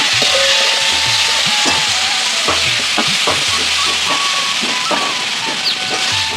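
Potatoes tossed into fried spice paste sizzle loudly and steadily up close, with stirring scrapes and clinks throughout and no talking.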